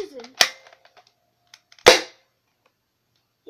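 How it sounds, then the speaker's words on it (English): An airsoft gun fires two sharp, loud snapping shots up close, about a second and a half apart, with faint voices and light handling clicks between them. "I'm gonna be shooting it up close right now"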